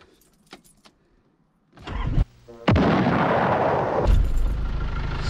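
A used budget 4x4 family tourer starts up after servicing: a few faint clicks, then the starter cranks briefly and the engine catches and settles into a loud, steady idle up close.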